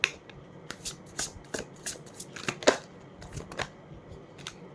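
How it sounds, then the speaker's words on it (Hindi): Tarot cards are shuffled by hand in a quiet room, giving a rapid series of crisp riffling and snapping bursts at an uneven rhythm, close and fairly soft. "लास्ट शफल है ये।"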